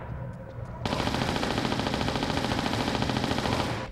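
Sustained automatic gunfire from the video game Tomb Raider 4, a dense rapid burst that starts abruptly after a brief quieter moment and runs loud and continuous to the end.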